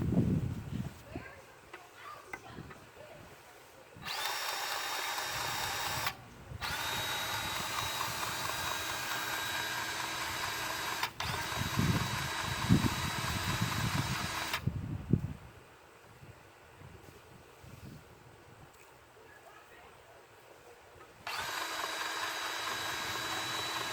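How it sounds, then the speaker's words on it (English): A new DeWalt 20 volt cordless power grease gun, used on a John Deere 17G mini excavator, runs with a steady motor whine in several bursts of a few seconds each, separated by quieter pauses. The sound is close, and there is no talking. "I got a new DeWalt 20 volt power grease gun"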